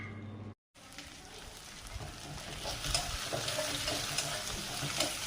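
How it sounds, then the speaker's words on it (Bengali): Sliced green chilies and chopped onion sizzling in a pan, a steady hissing crackle that rises after a brief gap and continues evenly, close by. "কাঁচা ঝাল চিরা পেঁয়াজ কুচি ভেজে নিচ্ছি"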